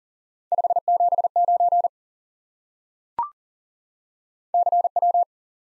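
Morse code CW tones sending the number 579 at lesson pace: clean steady beeps in short and long elements, two groups separated by a pause with a single brief click between them, no talk.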